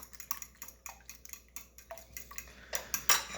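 Breakfast ingredients being mixed in a bowl, with quick rhythmic clinks and taps of a utensil against the bowl that grow louder toward the end, close and quiet.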